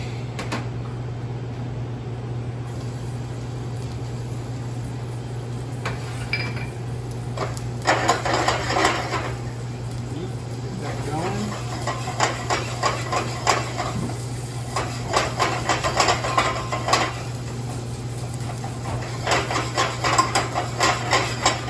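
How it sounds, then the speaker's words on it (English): Onions and garlic sauteing in extra virgin olive oil over high heat, a steady sizzle with intermittent clatter and scrapes as the food is tossed and stirred in the pan, under a constant low hum. "I'm on a high heat and sauteing. I'm just kind of jumping the food a little bit here, moving the onions."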